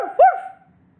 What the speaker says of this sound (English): Do you know what the sound of a dog is called as? It is called as a bark.